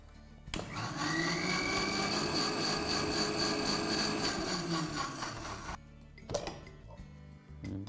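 A mixer grinder crushes agathi greens with garlic and water, running as a loud, steady whirring roar for about five seconds before cutting off, followed by a few light knocks and clatters.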